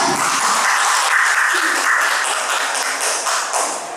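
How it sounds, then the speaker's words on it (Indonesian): Teachers gathered at a school dissemination event clap together in a brief, fairly loud round of applause that tapers slightly toward the end, with no talking. "Tepuk tangan untuk kita semua."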